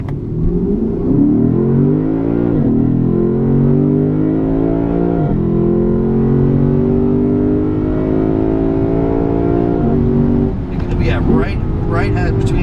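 A 2016 Lexus GS-F engine revs repeatedly toward its redline on a curvy road. The pitch climbs in several steady sweeps with short drops between them, loud and close, and ends in rapid blips.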